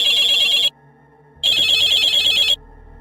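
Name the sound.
telephone ringing with an incoming call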